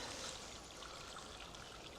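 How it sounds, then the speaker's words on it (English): A small stream in a country park burbles and trickles steadily, a soft continuous wash of flowing water heard close by with no voices. "New body of water, or a little stream."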